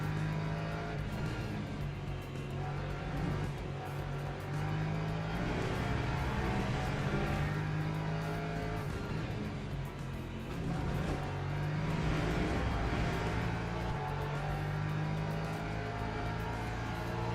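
Porsche race cars roar around Monza in Le Mans Ultimate, a sustained close engine drone with rising and falling revs and other cars blending in, steady and loud throughout.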